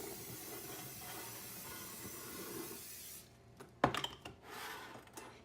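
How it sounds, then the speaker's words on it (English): Cooking spray hisses onto a 9x13 baking pan for an egg breakfast casserole: a steady, close spray for about three seconds that then cuts off, followed by a brief clatter. "I'm gonna go ahead and spray my pan with some cooking spray"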